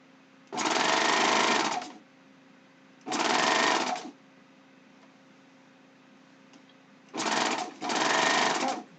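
A serger sews a ruffled pillowcase in four close, loud bursts of steady high-speed stitching, each lasting about a second, with quiet pauses between them.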